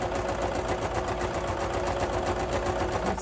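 A sewing machine stitches a pin cushion stuffed with scrap batting, a steady, even mechanical whir with a rapid regular needle rhythm, close and alone.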